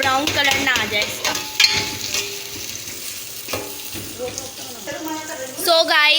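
Chopped medium onion sizzles and frying in a pot for nehari, with steady crackling and scraping stir strokes, while a voice talks over the cooking throughout.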